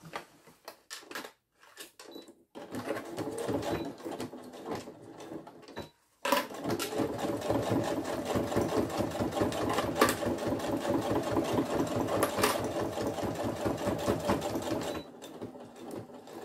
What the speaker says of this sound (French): Maintenant, je fais mon deuxième coin. Je le couds.